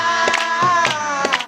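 Sharp hand claps, roughly four at a steady beat, cut through a sustained, tuneful voice or music that runs underneath the whole moment.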